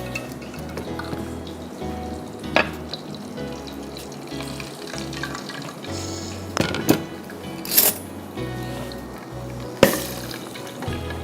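Water poured into a cooking pot during a chicken curry preparation in a kitchen, a splashing, running flow with a few sharper clinks and knocks of utensils, close and moderately loud, no talk.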